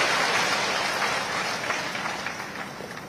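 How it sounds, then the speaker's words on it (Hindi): Crowd applause at a tribal pride honour ceremony at Mangarh, a dense, steady clapping wash that stays loud and slowly fades slightly toward the end, with no talk over it. "एक बार जोरदार तालियों के साथ अभिनंदन करें"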